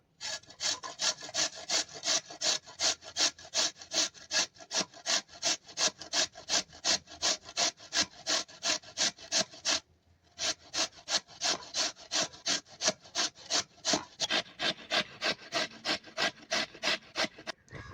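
Potatoes being grated by hand on a kitchen grater for crispy semolina pakoras: a fast, even rhythm of rasping strokes, close and loud, with a single short pause partway through and no speech.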